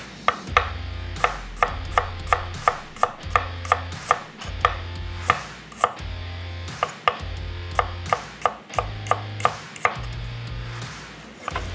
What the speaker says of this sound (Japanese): さあここでニンニクをスライスしましょう